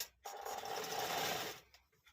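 A sewing machine runs a short burst of stitching along the double-folded edge of a blouse frill, close and fairly quiet, starting and stopping within about a second and a half.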